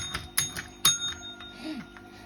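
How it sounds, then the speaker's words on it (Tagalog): A Shiba Inu presses a tabletop bell to ask for food, giving several bright metallic dings in an uneven rhythm with a short ringing tail, close and fairly loud. "You press the bell first."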